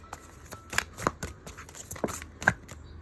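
Tarot cards riffle and slap as they are shuffled for a reading, a quick run of crisp papery flicks and taps close to the microphone, with no voice.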